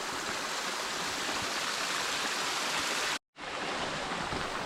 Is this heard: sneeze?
no